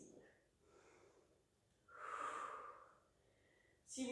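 Breathing during an advanced Pilates mat workout, with a soft breath followed by a stronger airy exhale that swells for about a second, close and gentle, and a sharper breath sound at the very end.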